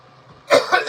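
A single harsh cough bursts out close by after a moment of quiet, rough and throaty.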